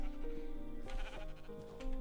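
A single sheep in a block-building video game lets out a drawn-out bleat over background game music.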